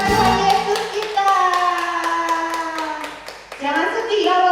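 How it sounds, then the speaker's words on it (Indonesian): Children's worship service clapping: rhythmic hand claps over sung or spoken melodic voices, steady beats with a brief dip before the voices resume. "Tepuk tangan buat Tuhan Yesus kita."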